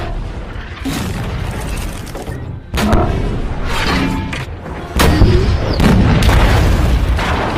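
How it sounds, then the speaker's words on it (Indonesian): Tank cannon fire in a battle scene against the White Tiger tank, heavy booming blasts landing at about 1, 2.7 and 5 seconds over a continuous loud rumble of combat. "Nedenov berusaha menghindari tembakan tank Tiger"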